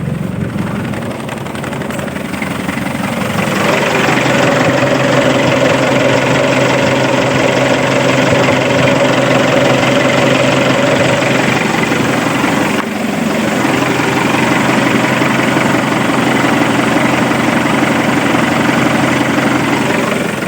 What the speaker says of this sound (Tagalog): Okay guys, so nag-on na yung ating radiator fan.